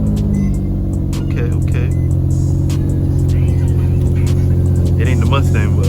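A car engine, cold-started, runs close and loud with a steady, deep idle throb and a faint rattly ticking above it; a voice briefly speaks over it.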